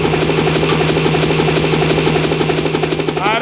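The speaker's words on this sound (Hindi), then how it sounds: "पायलट, हेलीकॉप्टर लाओ।" A helicopter's steady rotor drone and engine buzz fill the whole stretch, loud and continuous with a rhythmic chop, in a Hindi village folk drama performance.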